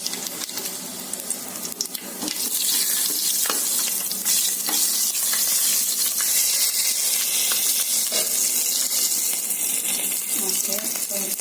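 Whole spices and leaves sizzle in hot ghee for mutton biryani, the crackling frying swelling louder after a couple of seconds and holding steady, with scraping stir sounds over it.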